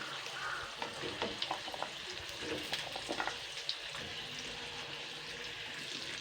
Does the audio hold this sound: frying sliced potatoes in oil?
yes